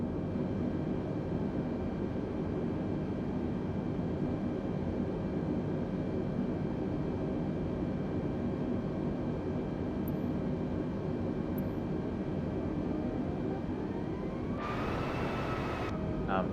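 Steady, loud drone of an Airbus A320neo engine in Microsoft Flight Simulator 2020 on a flight from Madeira to Lisbon, a continuous hum with a rising tone shift near the end and a couple of faint ticks.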